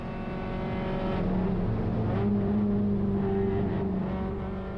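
Race cars running three wide down the main straight of the Phillip Island GP circuit at about 180 km/h, a steady, loud engine drone with rising and shifting tones as the cars hold speed together.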